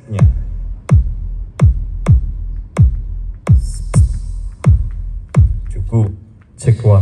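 Kick drum test through JBL speakers and subwoofers: a steady series of deep booming thumps about every 0.6 seconds, loud and close, with faint hiss and a voice briefly near the end.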